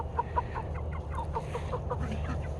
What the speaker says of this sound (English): And the chickens have come up here.